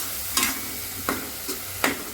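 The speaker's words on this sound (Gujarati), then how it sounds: "હવે આ પ્યોર બ્રાઉન કલર થાય ને ત્યાં સુધી મારે હલાવવાનું છે." Paneer masala is stirred while browning in a nonstick pan, with a few distinct scraping strokes over a soft steady sizzle, close up and without speech.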